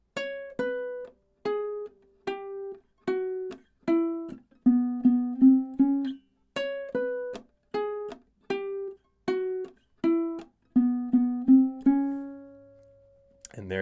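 Ukulele playing the outro riff of a song, a clear sequence of plucked notes and chords in a steady rhythmic pattern that repeats once and ends on a held note, close and alone.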